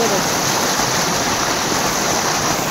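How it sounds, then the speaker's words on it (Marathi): River water rushes steadily at night at a deep river spot, a constant broadband roar of flowing current close by with no pauses. "पाणी किती वाहत"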